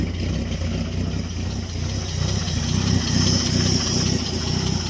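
Studebaker engine idling with no muffler and the exhaust held up by baling wire, a loud, rough, throbbing rumble with a steady pulsing rhythm, close by and running alone.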